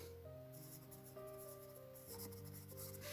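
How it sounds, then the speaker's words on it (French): A pencil scratches steadily along a paper sewing pattern, tracing the armhole line for a hooded coat for a six-year-old, faint and continuous beneath sustained background music tones. "Et je dessine la ligne de l'émanchure."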